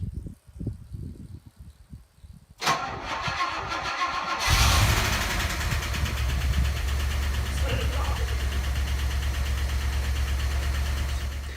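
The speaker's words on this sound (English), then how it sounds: "cold starting a Rolls-Royce" Rolls-Royce engine cold starting: quiet fumbling, then a sharp cranking burst around three seconds and a loud catch near four and a half seconds, settling into a steady, rumbling idle close by to the end.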